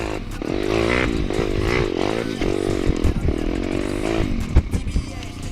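A Geon X-Ride 190 pit bike engine runs in third gear, loud and close, its revs rising and falling unevenly with a rough, buzzing tone and a few sharp knocks near the end.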